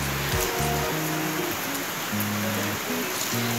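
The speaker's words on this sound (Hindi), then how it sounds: "ये देखिए, यहाँ पे देखिए बारिश हो रहा है" Heavy rain falls steadily outside a house as a soft, even hiss, faint and continuous, with low tonal hums drifting underneath and no speech.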